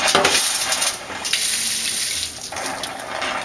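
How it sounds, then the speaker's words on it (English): Continuous hissing spray of coolant gushing from a CNC machine's nozzles, loud and steady throughout with slight surges, no talking. "Press the coolant, you'll see it come out."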